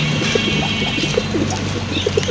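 A female pigeon coos in a series of short, soft low notes repeating roughly every half second, close by over a steady background hum.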